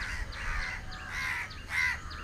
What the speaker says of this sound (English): Birds are something else.